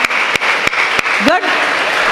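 Audience applause at a Tamil speech event, a continuous wash of clapping with a few sharp beats standing out, loud and close, while a voice briefly rises over it.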